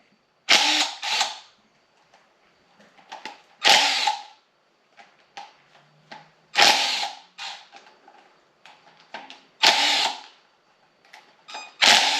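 A power tool, likely an impact or ratchet driver, spins out 10mm bolts from the passenger-side valve cover of a Subaru Forester engine during a teardown. It gives about five short, sharp whirring bursts separated by quiet clicks and handling noises.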